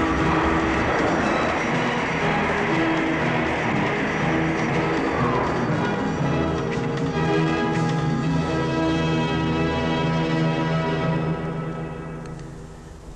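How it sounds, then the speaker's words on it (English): A South African Transport Services high-speed train tears through a station with a loud, sustained roar and rhythmic clickety-clack of wheels on rails, then fades away near the end. "The train flashing through the station on every trip"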